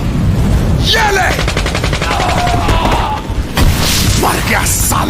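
Rapid bursts of rifle and machine-gun cover fire crackle loudly in a war drama battle scene of the Azad Hind Fauj against British forces, with booms and shouting voices mixed through the continuous barrage.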